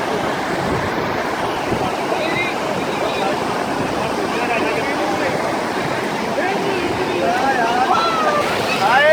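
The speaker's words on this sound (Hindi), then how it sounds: "हम करीब से दिखाएं किस कदर तेज़ी से इस वक्त पानी बह रहा है" Fast-flowing river water at Neelum Point near Kohala Bridge in Azad Kashmir rushes in a dense, steady roar, loud and close, with no pauses across the span.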